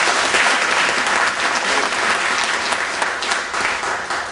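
A crowd claps steadily and loudly throughout, a dense wash of applause with no pauses.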